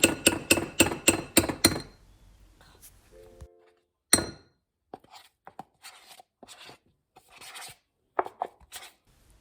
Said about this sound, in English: I'm mixing the ice cream with the half a cup of limeade